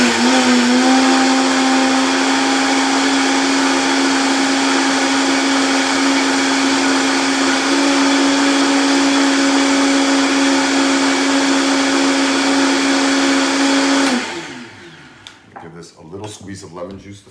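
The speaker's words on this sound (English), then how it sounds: "we could always add a little bit of liquid to our blender to get it to where we wanted it to be" A Vita Prep high-powered blender runs steadily for about fourteen seconds, a loud, even motor whir blending a sauce, then cuts off abruptly, leaving faint clinks and movement behind.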